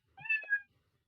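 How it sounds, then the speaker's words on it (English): Cat meow sound effect in a Scratch program, one clear two-part meow, close and alone. "Then you can see the cat is repeating his meow sound within a time."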